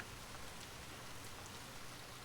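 Steady rain patters on a surface in a continuous, even hiss with no voices.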